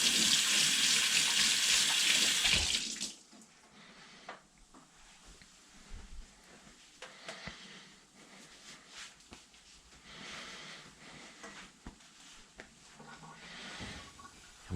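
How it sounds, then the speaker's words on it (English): A kitchen tap runs loudly and steadily for a few seconds while hands are washed, then shuts off, leaving quiet kitchen clatter and small handling noises. "Wash my hands again."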